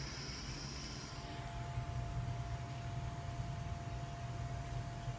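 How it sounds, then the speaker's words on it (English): A steady, broadband hiss of white noise plays continuously at low level, with a faint electrical hum beneath it. "I'm going to start my white noise again here"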